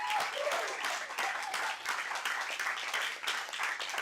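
An audience claps steadily for the speakers at an astronomy talk night, a dense, even wash of applause that holds throughout without talk over it.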